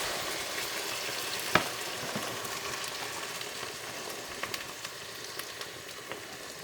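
A can of Guinness goes into a hot pan of steak pie filling, giving a steady close sizzle with one sharp clink near the start and a few small pops, no talking.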